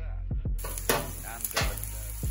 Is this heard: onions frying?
yes